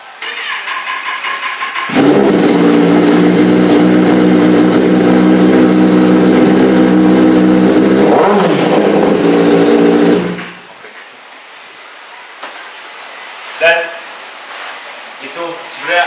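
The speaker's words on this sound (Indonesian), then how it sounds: "Geber sampai red line." A Kawasaki Ninja motorcycle engine is revved hard toward the red line, a loud sustained roar lasting about eight seconds before it drops back to a quiet idle with a few light knocks and clicks.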